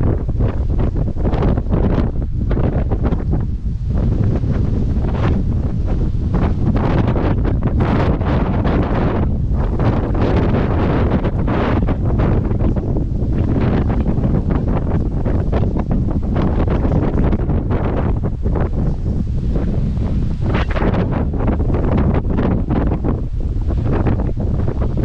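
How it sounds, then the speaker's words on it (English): Strong wind buffets the microphone at a rocky coastal point in Queensland, a continuous loud roaring rumble with gusty surges throughout and no voices. "The wind is keeping really cool."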